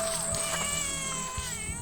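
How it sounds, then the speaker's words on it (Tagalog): A cat meowing at night on a mountain, a wavering drawn-out cry heard at moderate distance over a dense hiss of night insects. "Parang may pusa nga."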